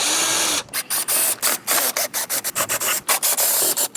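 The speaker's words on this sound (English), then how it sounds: "With the Phillips head bit, let's remove a whole bunch of screws." A power driver with a Phillips head bit backs screws out of a Lexus GX460 grille, giving a close, loud whirring buzz broken by many short stops and restarts in a quick, uneven rhythm.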